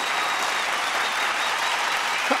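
Steady studio audience clapping on a comedy show set, dense and even throughout, with no voices over it.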